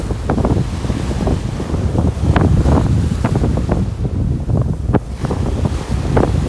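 Ocean surf at Miami's North Beach, heard as a loud, continuous rumble of waves mixed with heavy wind buffeting the microphone, with no voices.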